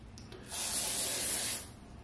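A single burst of fine mist sprays from a skincare bottle onto a face, a close, loud hiss lasting about a second before fading away.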